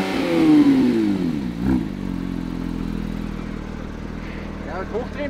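A Porsche 911 GT3 of the 992 generation pulls away with a loud revving engine note that rises and then settles into a steady drone as the car moves off, close to the microphone.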